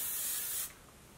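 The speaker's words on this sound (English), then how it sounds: "I'm going to go ahead and use the hairspray to finish it off." Hairspray hisses from an aerosol can in a single short, bright burst that cuts off cleanly, leaving a quiet room.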